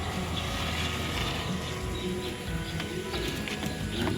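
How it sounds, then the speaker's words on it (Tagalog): Racing pigeons at a loft in heavy rain in Mindoro, with soft cooing and chirps over a constant hiss of rainfall, the birds fairly close. "Pero yan, nalipad yung ibon ko."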